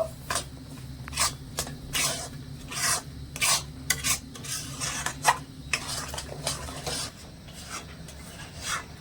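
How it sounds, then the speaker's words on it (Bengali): A spoon scrapes and stirs a dry mixture of powdered milk, sugar and cardamom powder in a pan, close up, in a steady series of rasping strokes with no talking. "সাথে দিয়ে দিলাম একটু এলাচের গুঁড়ো আবারও ভালো করে মিশিয়ে নেব"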